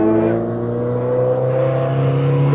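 Naturally aspirated manual-transmission car engine revving under throttle from inside the cabin, a steady loud drone with strong harmonic tones that climb and settle, no talking over it.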